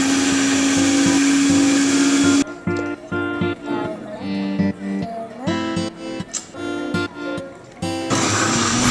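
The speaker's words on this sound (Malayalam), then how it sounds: "നമ്മൾ മിക്സിയിൽ അരക്കുകയാണ്." A kitchen mixer grinder grinding papaya, coconut and onion, a loud continuous whir at first, then short pulsed bursts of motor noise with gaps, ending in another sustained run.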